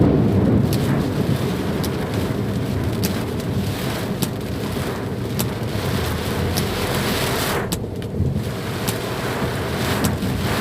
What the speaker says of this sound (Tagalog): lakas ng ulan eh